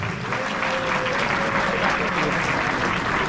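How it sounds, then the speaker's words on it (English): Audience applause at an alumni gathering fills the room, a steady, dense wash of clapping that holds loud and even throughout with no break. "Can we have one more round of applause for Jitendra Boss?"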